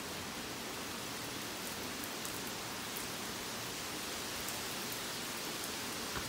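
Steady, moderate rain hisses evenly throughout with faint scattered drops, no voices or other sounds.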